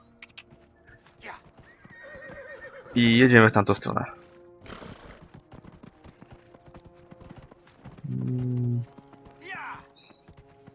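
Horse hooves and whinnies in Dragon Age: Inquisition, two short bursts of clip-clop and neighing amid game ambience, with someone talking in Polish between them.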